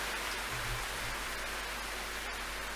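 Steady rain in the visual novel game Slow Damage, a dense even hiss of falling water filling the scene at moderate level, no voices.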